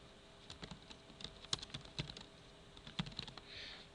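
Keys clatter on a computer keyboard in quick, irregular bursts of typing, close and clear with no voices over them.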